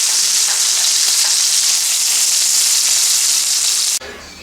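Spicy shrimp frying in a hot pan, a loud steady hiss and crackle of oil that continues close up before cutting off abruptly near the end.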